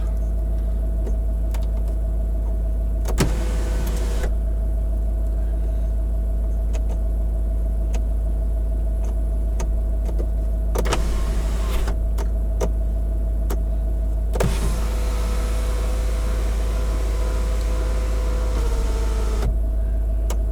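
The electric sunroof of a Range Rover L322 TDV8 runs in several separate bursts of motor whir over a constant low idling hum inside the car, with small clicks between the runs.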